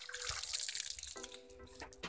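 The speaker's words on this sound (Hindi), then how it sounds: "हम लोग शलजम धो रहे हैं" Water from a hand pump tap splashing while turnips are washed outdoors in a village, a soft continuous trickle and splashing with faint tonal squeaks and handling noises.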